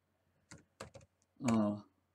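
A few sharp key clicks on a computer keyboard, an up arrow press while working in Python IDLE, tap out near and crisp, followed by a brief swell of voice.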